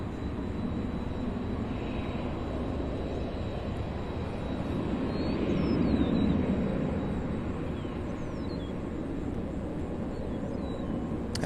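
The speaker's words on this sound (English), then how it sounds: "767 just arriving from Windsor Locks" A Boeing 767 arrives at Louisville International Airport, its broad jet roar swelling to a peak mid-way and then easing back into a steady distant rumble, heard alone without talk.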